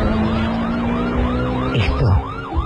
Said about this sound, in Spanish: hasta que escucha la sirena policial